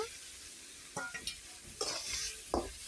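Fried fish goes into a chili and turmeric spice mix in a pan, sizzling softly while a few distinct scrapes and stirs sound close by, with no talking.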